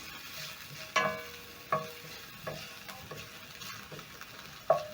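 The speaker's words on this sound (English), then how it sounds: "I'm going to cook the onions until soft." One medium onion stirred and fried in cooking oil for beef spring rolls: a steady close sizzle broken by four or five distinct scraping clinks of the utensil against the pan.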